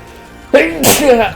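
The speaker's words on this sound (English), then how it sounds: "I think I sneeze again." A single close, loud sneeze from a person playing The Talos Principle 2: a short sharp intake, then an explosive burst with a voiced tail.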